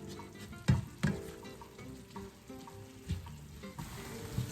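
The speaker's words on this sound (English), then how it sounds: "I've cooked it just until my onions are starting to look translucent" Onions sautéing in a pan for holiday meal prep, a soft continuous sizzle broken by several louder stirring scrapes and knocks, close and without voices.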